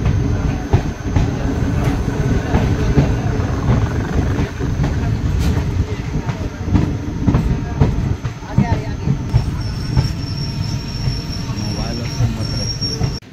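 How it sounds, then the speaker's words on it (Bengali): The Malda-Howrah Intercity Express pulls into Dhuliyan Ganga station with loud rumbling wheels, rhythmic clatter over rail joints and a thin squeal of wheels near the end, all close by. "ট্রেন এসে পৌঁছালো ধুলিয়ানগঙ্গা স্টেশন।"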